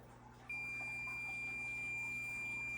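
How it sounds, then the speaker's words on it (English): A continuity meter used to test a vintage Corando 8-inch fan motor gives a steady, piercing electronic tone. The tone starts about half a second in and holds without a break to the end over a faint background hum. "So I have a continuity meter."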